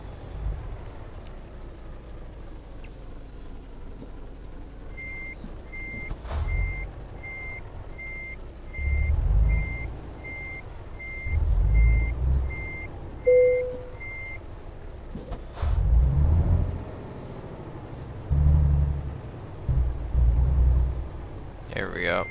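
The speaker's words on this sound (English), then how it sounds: "Now I can back this thing in." Reversing alarm on a long truck backing in, in the Euro Truck Simulator 2 driving game: a steady series of evenly spaced beeps over low engine rumble, with someone talking at intervals.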